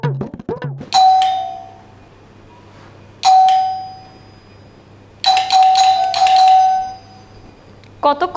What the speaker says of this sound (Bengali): কতক্ষণ ধরে কলিং বেল বাজতেছে, ওর কোনো খবরই নেই।